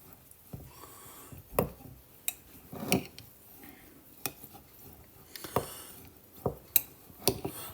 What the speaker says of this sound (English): we're going to just stir it all in